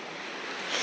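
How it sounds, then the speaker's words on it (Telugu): A natural stream of clear blue water runs over rocks, giving a steady broadband rush of flowing water that swells a little louder toward the end. "ఇది ఫ్లోయింగ్ వాటర్ కదా"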